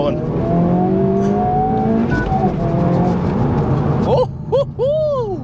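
Close and loud, a manual front-wheel-drive Honda Civic Type R FL5 accelerates hard from 0 to 60, its engine note climbing through gear changes before a short lift-off near the end, with excited voices over it.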